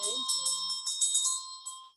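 A ritual bell rung during a Buddhist verse recitation gives bright, repeated metallic rings with a sustained tone and several quick strikes, close and clear, over a brief low voice at the start.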